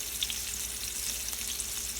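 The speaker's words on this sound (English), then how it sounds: "So while these sizzling, I just want to brown them up on one side" Garlic butter pork chops sizzle in a hot pan while browning on one side, a close, bright crackle of frying fat with scattered pops, continuous and fairly loud, no voices.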